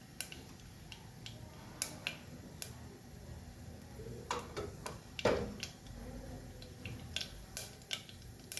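Mustard seeds popping in hot oil in a home kitchen, scattered faint sharp crackles and snaps at irregular intervals over a quiet background.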